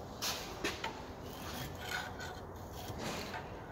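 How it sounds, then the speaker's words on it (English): A pry bar working a rear brake caliper off an Alfa Romeo 147, 156, GT or GTV, producing faint intermittent metallic scrapes and rasps against a steady low background noise. "Pry the caliper out slowly."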